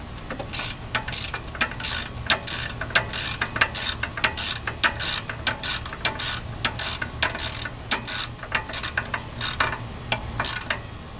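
A hand ratchet tightens the alternator bolts on a 2001 Toyota Camry in a quick run of sharp, rhythmic clicking bursts with brief pauses between strokes. The sound is close, loud and steady, with no talking.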